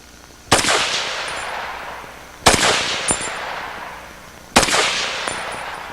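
Walther WA2000 rifle fires three loud, sharp shots downrange about two seconds apart, each with a long echoing tail at an outdoor range.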